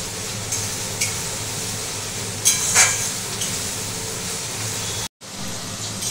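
Onions sizzling in hot oil in a pan, a steady close hiss of frying with a few brief louder crackles and scrapes.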